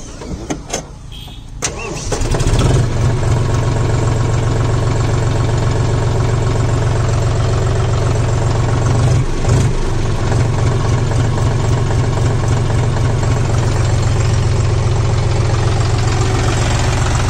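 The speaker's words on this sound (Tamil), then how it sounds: "இன்ஜினை வந்து ஸ்டார்ட் பண்ணி காமிக்கிறேங்க" A John Deere 5045D Gear Pro tractor engine cranks and catches after about two seconds, then settles into a loud, steady, close diesel idle that runs to the end with no talk.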